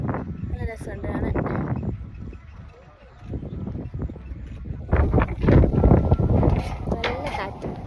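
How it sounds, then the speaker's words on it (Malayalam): Strong wind gusts buffet the microphone on a hilltop bridge in Vagamon, rumbling in uneven bursts that swell louder near the end, with a person talking over it. "നല്ല കാറ്റ്"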